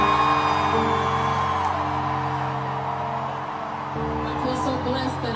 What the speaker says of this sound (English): So I want you guys to just scream so she can feel your love.